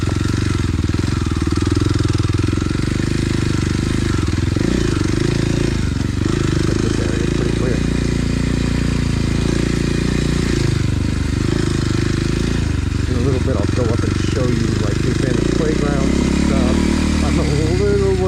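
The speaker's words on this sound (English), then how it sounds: "It's just a fun little dirt bike." A Kawasaki KLX 230 dirt bike engine drones loudly and close, its pitch rising and falling as the revs change. A voice is heard over the engine.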